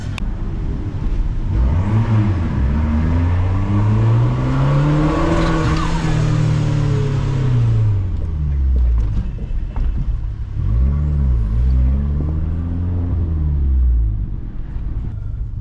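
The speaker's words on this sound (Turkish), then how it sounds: "Turbonun sesi de bayağı iyi geliyor düz boru olduğu için." A Fiat 500 Abarth's small turbocharged engine with a straight-pipe exhaust revs up and down in repeated sweeps, close and loud, with a whooshing turbo whistle over the rumble.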